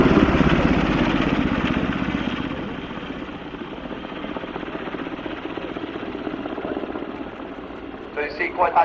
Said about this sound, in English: It's actually a medium utility helicopter, 15 tons